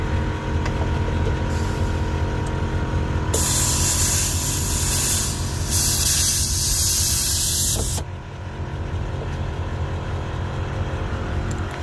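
A truck's air bag suspension is being filled: a loud, steady hiss of air lasts several seconds, then cuts off abruptly and leaves the truck's running engine rumbling on its own.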